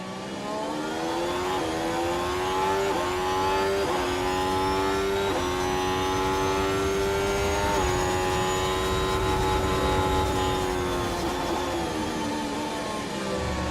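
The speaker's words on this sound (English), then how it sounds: "Got a weird little audio glitch where we're hearing the engine idle noise as well as the actual engine noise" Race car engine in the F1 Manager 24 video game at Baku, Azerbaijan, with an idle-engine sound glitching over the main engine note: a loud, continuous, steady harmonic drone with slight pitch dips and swells throughout.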